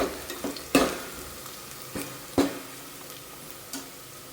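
Chicken biryani browning in a pan gives a soft, steady sizzle broken by about half a dozen sharp scraping and clinking stirs at irregular intervals, close by, with no talking.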